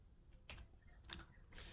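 Quiet clicks of typing on a computer keyboard as a domain name is entered, a few soft key bursts with gaps and a slightly louder final tap.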